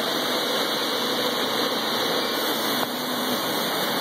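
A jerry can leak tester for 25-litre barrels runs steadily after being started, giving a constant mechanical hum with a bright high whine, close and unbroken. Near the end the tone shifts slightly.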